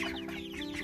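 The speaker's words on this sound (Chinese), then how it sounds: "我们家的小鸭子今天已经" Five-week-old ducklings give soft, overlapping peeping calls close by, a brief busy chorus of small bird voices at low volume.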